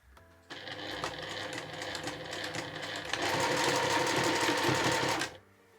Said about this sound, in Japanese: そしたら端から1センチを縫います。